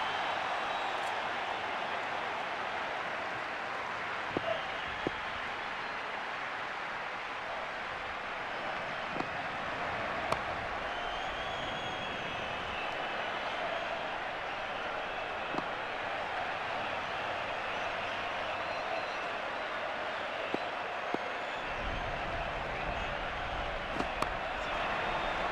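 Crowd noise swells steadily through a PS2 cricket game of the 2004 ICC Champions Trophy, West Indies against Pakistan, after a six is hit, a dense continuous roar with scattered sharp knocks on top.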